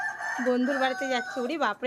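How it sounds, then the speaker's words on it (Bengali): A rooster crows loudly and close by in a long, wavering call that fills the whole moment, while a person speaks over it. "মোরগ ডাকছে, শুনেছিস ভাই?"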